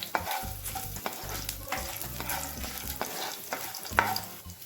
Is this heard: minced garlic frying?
yes